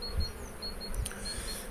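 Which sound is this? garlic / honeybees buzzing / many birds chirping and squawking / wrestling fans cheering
honeybees buzzing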